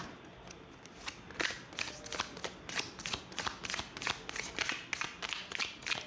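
Oracle tarot cards being shuffled, a steady run of crisp riffling flicks and soft slaps repeating close to the mic for several seconds, with no talking over them.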